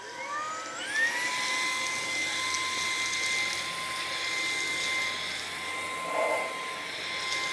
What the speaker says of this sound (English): Let's go ahead and get it activated with turbo mode.